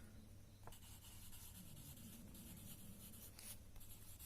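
A pen scratches across paper in short, faint strokes during a maths lesson on circles, quiet and close in an otherwise hushed room.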